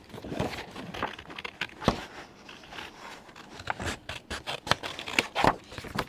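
Small paper craft pieces being snipped out one by one with scissors at close range, a run of quick crisp cuts and rustles with sharp snips scattered irregularly throughout.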